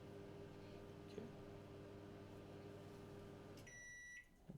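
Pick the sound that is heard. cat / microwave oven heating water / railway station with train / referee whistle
microwave oven heating water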